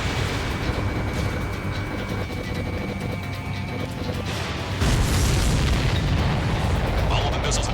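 Missiles explode in the jet combat game Ace Combat 7: Skies Unknown, heard as dense, heavy rumbling blasts over engine roar. The noise swells into a louder, deeper burst about two-thirds of the way through.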